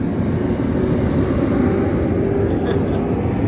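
Steady, loud low-frequency road rumble from heavy vehicles passing close by, continuous throughout with no talking.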